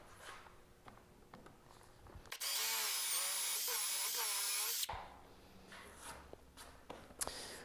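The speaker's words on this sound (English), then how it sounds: "I'll drill these other 2 holes back here" A power drill whines loudly for a couple of seconds as it bores holes into a wooden workbench, between quieter handling noises and light knocks.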